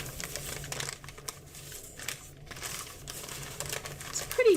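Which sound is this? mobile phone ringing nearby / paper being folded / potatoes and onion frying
paper being folded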